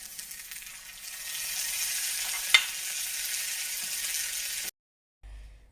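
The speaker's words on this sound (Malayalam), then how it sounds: "കുറച്ച് കറിവേപ്പില ചേർത്തിട്ടുണ്ട്. ഉള്ളിയും മുളകും ഒക്കെ നന്നായിട്ട് മൂത്തിട്ടുണ്ട്." Onions, chillies and curry leaves sizzle in a pan of hot oil for a roasted chutney, a steady close frying hiss with one brief sharp crackle midway, before cutting out and returning briefly.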